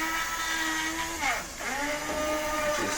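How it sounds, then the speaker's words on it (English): Immersion blender pureeing chicken tortilla soup in a pot: a steady close motor whir with pitch dips and swells as the blade moves through the liquid, with no talk. "I'm just going to immersion blend all of it."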